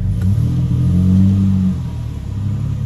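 A turbocharged Ford EF Falcon engine rumbles steadily and loudly up close as the car is put into gear, its low idle drone holding and then easing slightly.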